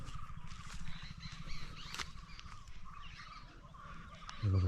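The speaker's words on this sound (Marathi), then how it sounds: "हे बघा, इकडे पक्ष्यांचा चिवचिवाट बघायला ना, चिकाटी पक्षी बोलतात." Chikati birds calling in a forest at sunrise, scattered faint chirps and calls over a low rumbling background, with a louder thump near the end.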